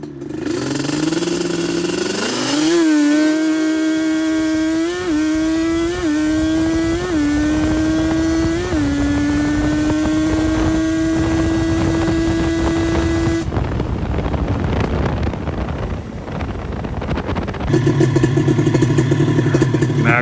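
A Yamaha Banshee with a Toomey exhaust climbs through the gears at full throttle, its loud, buzzing two-stroke wail rising and dipping at each shift before holding near its peak, then cutting to a rougher, different engine tone.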